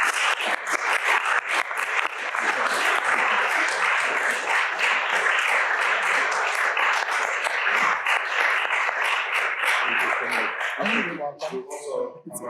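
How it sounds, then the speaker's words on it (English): Audience applause at a Santa Clara County supervisor candidate forum: dense, sustained clapping from a room full of people that holds steady for about eleven seconds, then thins out into scattered claps and a voice near the end. "I think we owe them some applause"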